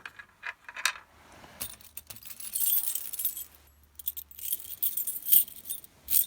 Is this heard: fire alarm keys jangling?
yes